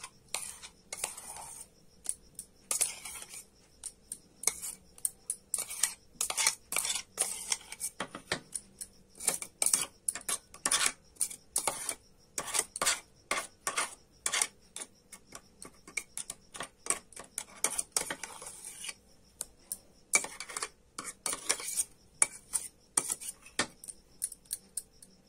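A spoon clinks and taps against a bowl while green pea paste is mixed with the other ingredients for kofta. The irregular, close clicks come in quick bursts with short quiet gaps and no talk.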